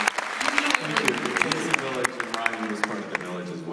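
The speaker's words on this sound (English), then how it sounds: "I just would like to applaud Mark for that." An audience at a San Francisco International Film Festival screening Q&A for the 1998 film "54" breaks into applause, a dense patter of claps with crisp individual hits, while a voice keeps talking over it.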